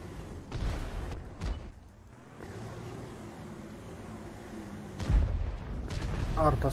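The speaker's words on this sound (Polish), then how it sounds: "Arta strzeliła." Several heavy booming blasts of artillery fire in a game, spaced a few seconds apart, with people talking over the rumble.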